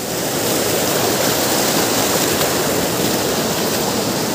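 The Siang River in Arunachal Pradesh rushes past close by, a loud, unbroken roar of flowing water with no pauses and no voices.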